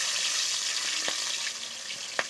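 A salted, turmeric-rubbed fish head fries in hot oil with a steady, close sizzling hiss, broken by a couple of sharp spatters.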